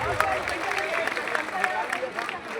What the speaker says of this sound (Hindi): एक बार ताली तो बजाओ